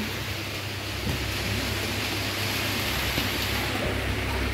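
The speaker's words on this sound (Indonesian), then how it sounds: "Nah ini situasinya kita lagi hujan." Steady rain falling outside a stilt house in a narrow Palembang alley, a dense even hiss lasting the whole stretch at moderate distance, with no voices.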